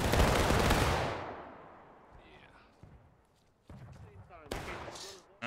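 A company fires a musket volley in War of Rights, one loud crackling burst of many shots at once that rolls away into a long fading echo, followed by quieter voices and scattered distant shots.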